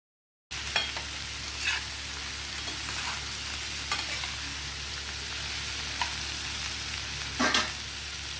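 Broad beans (chikkudukaya) stirred and frying in a pan, giving a steady close sizzle broken by a few louder scraping stirs, with no talking.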